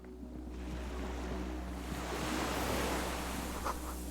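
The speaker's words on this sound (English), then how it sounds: "Water rushes below." Water rushes somewhere below in a video game: a broad, steady, hissing wash like surf, swelling slightly midway, with a low hum underneath and no voices.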